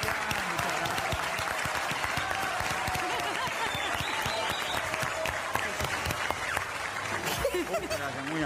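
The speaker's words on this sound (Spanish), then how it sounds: "Un aplauso." Studio applause rises as a steady wash of clapping throughout, with voices and light chuckles mixed in beneath it.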